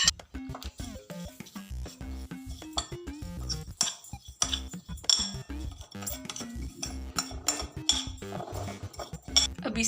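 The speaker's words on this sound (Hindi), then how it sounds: "अब सारे मसाले जो हैं वो एक बाउल में मिक्स कर लेते हैं अच्छे से" A spoon clinks and scrapes against a bowl as spices are stirred together for an achar gosht curry, giving a quick irregular rhythm of close metallic taps with a voice over it.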